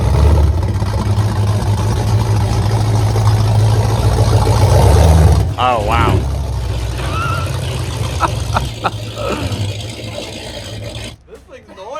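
A noisy old rat rod car engine idles loud and close with a low rough drone that drops off midway, followed by a person talking briefly over a quieter running engine.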